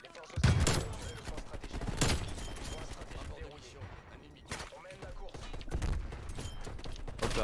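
Rapid bursts of gunfire from a Call of Duty Black Ops Cold War match crack out in repeated volleys with short gaps, loud and close, while a player talks over the action.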